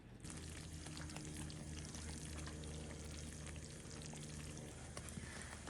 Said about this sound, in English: Keep stirring on a low flame until you get the one string consistency.